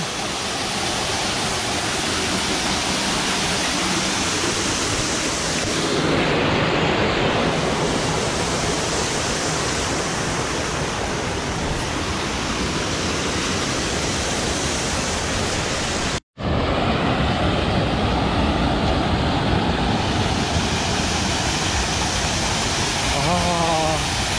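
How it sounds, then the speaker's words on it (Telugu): A waterfall at Jari near Kasol in Himachal pours in a steady, loud broadband roar that fills the whole stretch, with a brief dropout partway through before the rushing water resumes unchanged. "వచ్చినామయ్యా వాటర్ ఫాల్కి."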